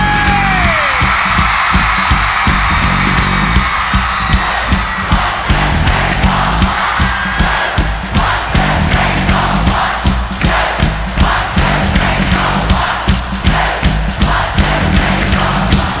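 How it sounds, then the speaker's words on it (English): A large concert crowd at Milton Keynes screams and cheers on a singer's cue, a dense, loud roar of yells and whoops sustained throughout with pulsing peaks. "I need everyone here at Milton Keynes to scream"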